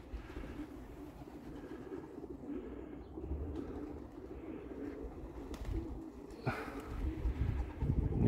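Homing pigeons coo softly at a backyard loft, a low murmuring coo running steadily through the clip over outdoor background noise, with a faint rail-like rumble.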